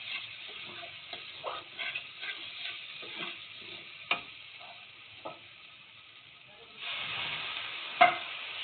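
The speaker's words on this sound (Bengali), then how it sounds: "এবারে ভালোভাবে মশলা কষানো হচ্ছে" Spice paste is stir-fried for an onion- and garlic-free cauliflower curry: a low, steady sizzle punctuated by scattered spoon taps and scrapes, swelling to a louder hiss toward the end.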